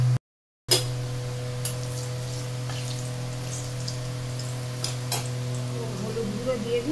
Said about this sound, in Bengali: ফোড়নটা একটু ক্র্যাক হোক